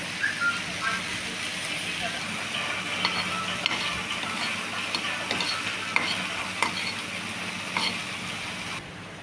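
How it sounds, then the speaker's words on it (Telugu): Dried red chillies fry in a pan, giving a soft, continuous sizzle with light scraping and clicking from stirring, fairly quiet and close. "మొదటిగా ఎండుమిరపకాయలు వేయించుకోవాలి."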